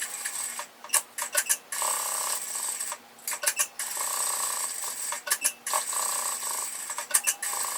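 A sewing machine stitching around a fabric Christmas tree ornament, runs of fast rhythmic mechanical whirring broken by short pauses and clicky stops, close and moderately loud with no speech.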